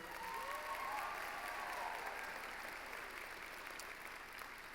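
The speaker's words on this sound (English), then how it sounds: "One more round of applause for her." A room full of people at a high school commencement ceremony applauds steadily for several seconds, a continuous even clapping without speech.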